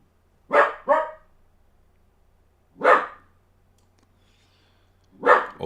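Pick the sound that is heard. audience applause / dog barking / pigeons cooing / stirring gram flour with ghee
dog barking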